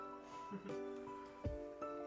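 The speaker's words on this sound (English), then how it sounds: "Is that the sound of tortilla?" A tortilla fries in a hot pan while enchiladas are made from scratch, giving a steady close sizzle with a couple of brief louder bursts of crackle.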